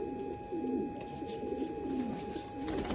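Domestic pigeons cooing steadily in a loft kept near grapevines, a soft continuous burbling chorus close by with no talk over it.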